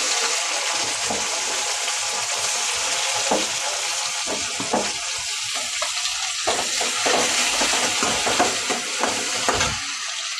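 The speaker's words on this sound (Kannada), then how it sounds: "ನೋಡಿ ಇವಾಗ ಈರುಳ್ಳಿ ಫ್ರೈ ಆಗಿದೆ. ಟೊಮೆಟೊ ಹಾಕ್ತೀನಿ." Onion and tomato fry in a pan with a steady, close hiss of sizzling oil, broken by scraping and stirring clatter.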